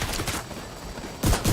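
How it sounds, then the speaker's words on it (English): Shotgun blasts in The Division 2, each firing seven pellets: loud, close, booming shots in quick bursts, a pair at the start and a heavier pair at the end, with no talk. "shotguns full of 7 pellets at a time."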